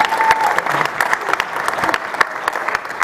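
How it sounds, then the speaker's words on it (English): A conference audience at Consensus 2022 applauds its panelists, the clapping a moderately full crowd patter with sharper individual claps standing out, and some faint voices mixed in. "let's give our panelists a round of applause"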